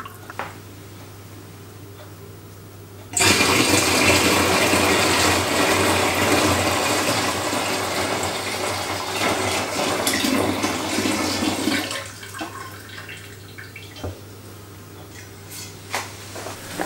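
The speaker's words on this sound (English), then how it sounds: "And then we'll pour this into the fermenter." Liquid wort with honey gushes and splashes loudly into a fermenter for several seconds, then tapers to softer trickles and drips.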